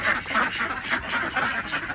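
Ducks kept at a home in Qatar quack in a rough, continuous jumble from several birds, near and steady, with no talk over them.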